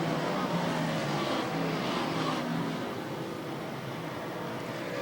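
Race cars on the Airborne Speedway track in Plattsburgh, New York, a dense continuous roar of engines from a pack of cars, steady and broadband, fading slightly partway through.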